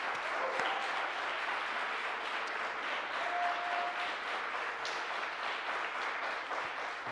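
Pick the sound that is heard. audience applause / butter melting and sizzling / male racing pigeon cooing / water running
audience applause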